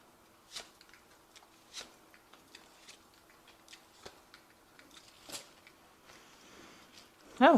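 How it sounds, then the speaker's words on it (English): Tarot cards being shuffled close up in soft, irregular riffling bursts and flicks, quiet and crisp, with a short voice at the end. "I have shuffled the deck as well."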